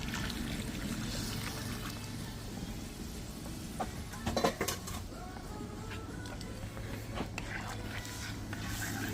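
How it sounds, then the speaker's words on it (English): Hot water is poured into a pot over a fireside for chicken cook-up rice, a soft continuous pouring and trickling sound amid outdoor background noise, with a few brief clinks midway. "I'll put this in here and then I'll put some hot water."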